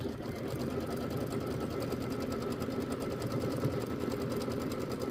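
Sewing machine stitching quilt fabric for a seasonal quilt block, a continuous close rhythmic needle chatter and motor hum running steadily throughout.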